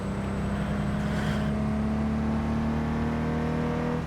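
A car drives steadily in Cyberpunk 2077, a continuous engine drone with a constant low hum and a faint whir, loud and close with no talk over it.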